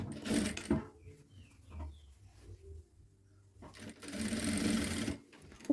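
A sewing machine stitches a waistband on a child's garment in two close bursts, one at the start and a longer run near the end, with a quiet pause between and a brief voice in the gap.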